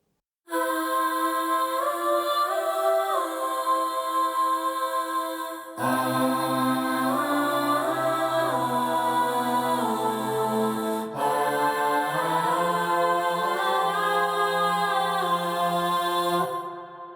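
A stacked vocal harmony passage, sustained chords sung over strings, swelling in three sections with a fuller low end entering midway.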